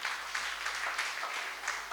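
Congregation applauding during a Sunday church service, a steady wash of many hands clapping together at moderate volume with no voices over it.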